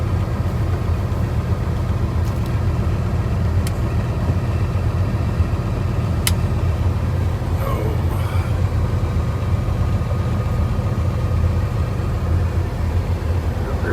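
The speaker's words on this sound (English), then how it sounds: "Man, he is just spinning his tires." A truck stuck in deep snow spinning its tires, next to a Kenworth: a steady, loud engine drone and rumble runs through the whole stretch, with a brief higher whine near the middle.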